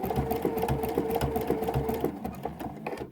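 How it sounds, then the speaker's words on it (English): A sewing machine runs steadily, stitching over the edge of a quilt's binding with a wide decorative stitch, its motor hum and fast needle rhythm continuous and close before slowing and stopping near the end. "I'm just going to sew over the edge of the binding."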